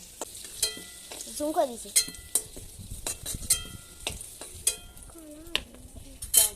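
Fried potatoes scooped out of a kadai: repeated metallic scrapes and clinks of a spatula against the pan over a soft oil sizzle, with brief speech in the background.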